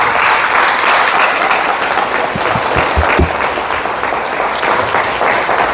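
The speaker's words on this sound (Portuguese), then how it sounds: "Vamos aplaudir a Jesus." A church congregation claps together at a Sunday service in Brazil, with steady, dense applause filling the room at a constant loud level throughout, and no voices standing out.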